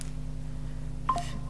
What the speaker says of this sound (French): j'avais pas mis mon téléphone en silencieux. J'ai mon petit qui m'écrit.